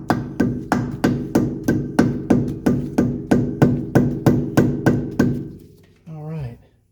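A hammer taps a grease cap onto the wheel hub of a Mercedes W116 300SD, about eighteen evenly spaced metallic taps in a steady rhythm, close and clear, followed by a brief voice at the end.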